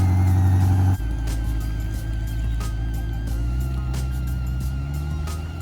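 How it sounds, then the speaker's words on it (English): An old car pulls away, its engine note steady and fairly loud at first, then settling into a continuous rumble as it drives off, with no talking. "my old car finally driving off"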